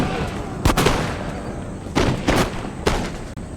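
Musket volleys in Empire: Total War crack out in four sharp, loud bursts at uneven intervals over a rumbling battlefield background.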